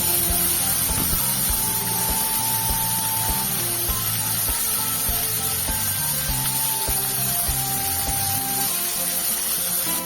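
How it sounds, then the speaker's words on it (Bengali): Brinjal pieces frying in oil with salt and turmeric for a Bengali hilsa and brinjal curry, giving a steady, close hiss and sizzle that continues without a break and with no talking. "বেগুনগুলো একটু ভেজে নিচ্ছি"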